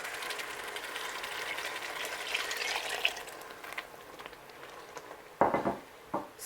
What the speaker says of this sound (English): So at this stage, we're going to bring in our broth.